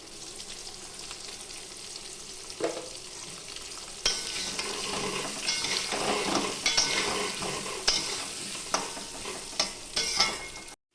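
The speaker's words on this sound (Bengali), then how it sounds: "সব আলুগুলোকে একসাথেই ভেজে নিচ্ছি একটু নুন আর একটু হলুদ দিয়ে" Potatoes frying together in hot oil with salt and turmeric, a continuous close sizzle that swells as they are stirred, with occasional sharp clinks of a utensil on the pan.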